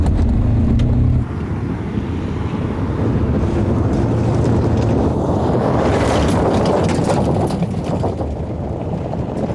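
A Volkswagen Amarok pickup brakes hard in 4x4 mode without off-road ABS, heard as a loud, sustained roar of tyres and vehicle noise mixed with heavy wind buffeting on the microphone, with no speech.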